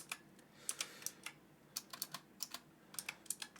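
Quick, irregular clicks of fingers typing on a computer keyboard, close and fairly quiet, coming in short bursts with brief pauses and no voices.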